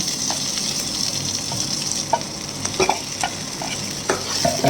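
Onion and tomato sauté and sizzle in a pan, with steady frying hiss and scattered scraping stir strokes throughout, close and alone.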